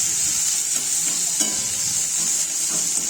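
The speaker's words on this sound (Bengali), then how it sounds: "পেঁয়াজটা যতক্ষণ না লাল লাল ভাজা হবে ততক্ষণ আমি নাড়ব" Chopped onions fry in a pan while being stirred, giving a constant close hiss of sizzling oil broken by soft scraping strokes of the spoon, with no talk.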